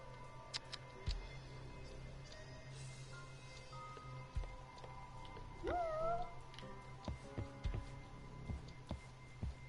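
A cat gives a single short meow partway through, set against steady low rumbling and scattered ticking and clicking noises, with no one talking.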